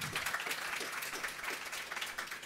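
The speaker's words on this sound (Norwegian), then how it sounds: "En liten applaus." Faint audience applause at a panel event at Arendalsuka 2023, a steady wash of distant clapping with no voices over it.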